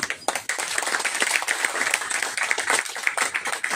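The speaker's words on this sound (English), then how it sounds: "Round of applause." A crowd claps steadily throughout, a dense patter of hands with no voices standing out, fairly even in loudness.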